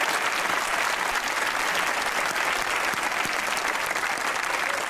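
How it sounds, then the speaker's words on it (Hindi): Steady studio audience applause on a comedy talk show, dense even clapping from a crowd sustained throughout, loud and without speech. "तालियां बजाइएगा खवातीन।"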